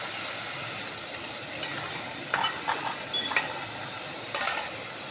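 Katla fish curry is sautéed with a little water, a continuous steady sizzle with a faint whine, broken by a few soft scraping stirs and light utensil clinks near the end, close and without speech.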